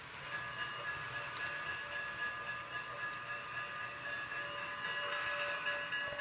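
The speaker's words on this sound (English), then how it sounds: "make sure the passenger train stops and picks up passengers at the train station" A model passenger train runs on a layout inside a train building, giving a faint, steady mechanical hum with a few thin sustained tones and no voices.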